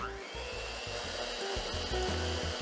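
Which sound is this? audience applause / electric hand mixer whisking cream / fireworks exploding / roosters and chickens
electric hand mixer whisking cream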